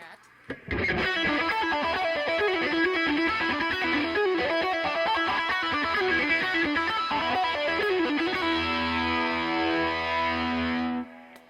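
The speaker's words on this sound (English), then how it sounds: "80s distortion with chorus." Heavily distorted 1980s-style electric guitar with a shimmering chorus effect playing a fast riff, ending in a sustained chord that rings out and stops.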